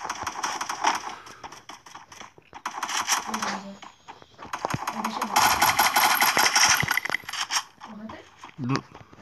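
Rapid bursts of gunfire in the Free Fire battle royale game crackle in several volleys, loud and close, with a player talking over the shooting.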